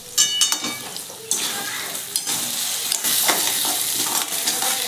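A pea filling for kochuri is stirred and dry-fried in a pan with a spoon scraping the metal, the sizzle steady and hissing underneath, close and continuous with a few louder scrapes, no one talking.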